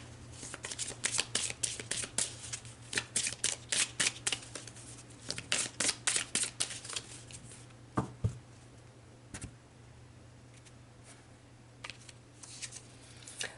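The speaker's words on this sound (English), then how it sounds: "So let's pull some cards" Oracle cards for an angel-message reading are shuffled by hand in quick rhythmic bursts of crisp riffling, loud and close, pausing briefly before a few sparser flicks near the end, with no talking.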